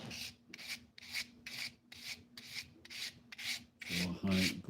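Close, steady back-and-forth strokes of 400 grit wet sandpaper rub rhythmically over a tip, about eight even passes followed by a couple of heavier scrubs.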